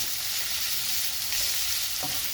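Onions and garlic fry for a cabbage sabji, a loud, continuous, close-up sizzle that holds evenly throughout with no voices.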